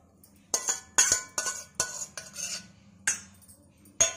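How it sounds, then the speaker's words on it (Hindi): Fish eggs being stirred and beaten with spice paste in a large metal cooking vessel, giving a run of sharp clinks and scrapes, about a dozen irregular strikes over a few seconds, close and fairly loud with no talking. "इन सबको अच्छे से फेंटेंगे।"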